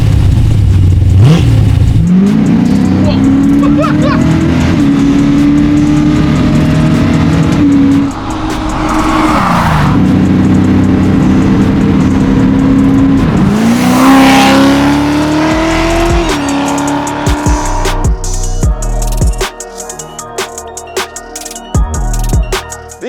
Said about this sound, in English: Classic vintage BMW E21 with a small block Chevy